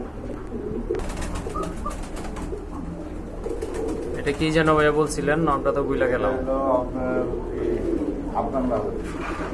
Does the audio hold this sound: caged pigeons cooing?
yes